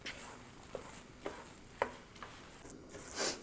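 Squid and rice filling stirred in a pan, with soft, faint scrapes of a spoon at irregular intervals over a quiet background sizzle.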